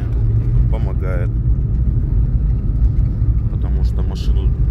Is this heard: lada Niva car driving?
yes